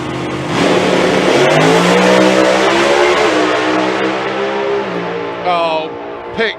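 Two drag racing cars, one a Mustang, launch side by side at Santa Pod Raceway, their engines howling loudly and rising in pitch through a quarter-mile run before fading, with a commentator's voice over the roar.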